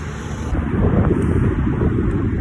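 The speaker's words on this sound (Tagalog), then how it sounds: "Matindi ang hangin ngayon" Strong, steady wind buffets the microphone on a night urban mountain bike enduro ride in Dubai, a continuous low rumbling roar throughout with no talk.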